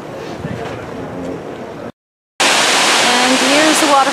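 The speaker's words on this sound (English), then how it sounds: "And here's the waterfall that I took from way back." Roaring white noise of a massive waterfall seen from a cruise ship in Alaska, steady and loud, with a brief silent gap midway and faint voices mixed into the first half.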